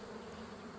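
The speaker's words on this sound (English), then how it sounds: "these bees are really just freaking getting on my nerves, man, with the robbing" Honey bees robbing a beehive make a dense, continuous buzzing hum, close and steady, with many wings droning together and no voices.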